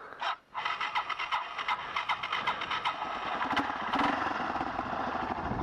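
Yamaha YTM 225DR three-wheeler engine cranking and catching, rough sputtering pulses that settle into a steady close running drone.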